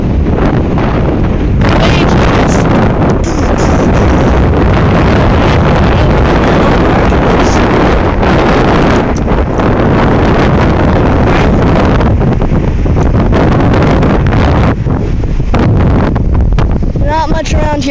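Extreme winds batter the microphone on Gold Beach while ocean surf roars underneath, a loud, unrelenting blast of gusts and crashing water filling the whole stretch.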